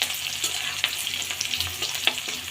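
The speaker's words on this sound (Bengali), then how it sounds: "পেঁয়াজটা আমি ভেজে একটু বাদামি কালার করে নেব।" Onions sizzle and fry steadily in a pan with a constant bright hiss, punctuated by occasional soft stirring scrapes, close and fairly loud, with no voices.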